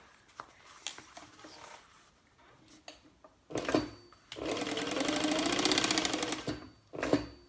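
Sewing machine top stitching a fabric wallet, heard as short bursts of close, rapid mechanical stitching, including one sustained run of a couple of seconds, separated by quieter handling noises.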